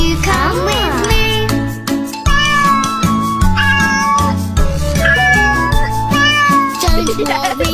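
A kitten meows repeatedly in a cartoon-style rendition, the high sliding cries set over a loud, bouncy children's song with jingling accompaniment.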